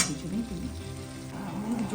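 Spice masala with whole garlic cloves being stir-fried for chicken kosha, a close sizzle under the scrape of a spatula against the pan, fairly short and continuous.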